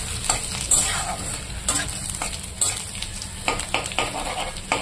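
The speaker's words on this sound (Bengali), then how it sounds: "লাল লাল করে ভেজে নিতে হবে এগুলোকে" Grated ginger frying in a pan for a khichuri tempering, a steady crackling sizzle with repeated stirring scrapes every half second or so, close and moderately loud, no voices.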